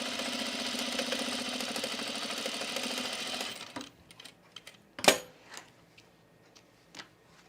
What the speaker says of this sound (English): then we'll start sewing